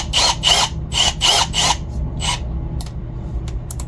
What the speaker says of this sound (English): And we'll get a drill bit and drill this in.